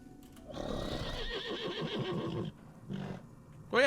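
A horse whinnies in World of Warcraft, a loud, drawn-out neigh with a wavering pitch that drops away, then a shorter whinny follows after a pause, and a sharp new sound cuts in at the very end.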